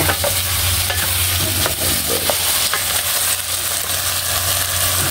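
Sardines and sponge gourd (patola) stirred in a hot pan, a steady loud sizzle of frying with scraping spoon strokes and a low background hum throughout, no voices.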